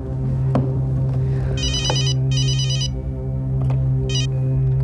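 A phone rings with bursts of a bright electronic ringtone, repeating three times over a steady low hum, with no one speaking.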